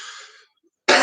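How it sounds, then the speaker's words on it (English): A single loud, harsh cough bursts out abruptly after a stretch of quiet, close to the microphone, following a faint trailing sound. "The cough always comes at the wrong possible time."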